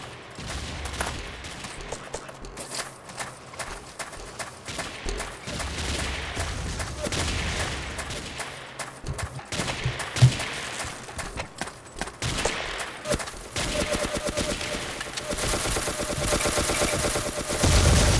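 Gunfire in the video game Ace of Spades: rapid bursts and single shots crack over and over, some loud and near, others scattered, against a busy game backdrop with sporadic brief voices.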